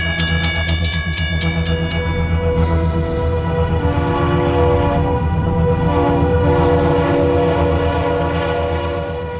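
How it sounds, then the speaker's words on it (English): A freight train passes near a small desert town, its horn sounding in long sustained multi-tone blasts over a continuous loud rumble of rolling cars that swells and then slowly fades. "The only excitement is usually when freight trains pass by."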